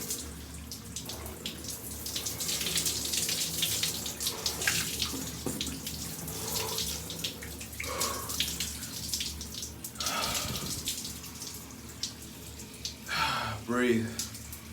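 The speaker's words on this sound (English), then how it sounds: "Cold shower power." Cold shower water runs and splashes steadily, close and continuous, with a voice talking over it and a brief burst of heavier splashing near the end.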